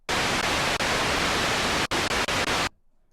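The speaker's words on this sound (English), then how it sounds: "It basically just emits white noise." A synthesizer noise oscillator puts out steady, loud, full-band white noise with no voice. It briefly drops out near the end and then returns as several short bursts before stopping.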